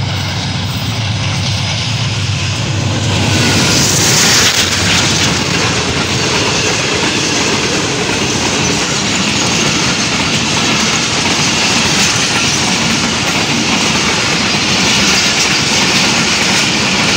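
Zikriya Express passenger train hauled by a green AGE30 diesel locomotive departs and passes close by, a loud continuous roar of engine and rumbling wagons filling the whole stretch without pause.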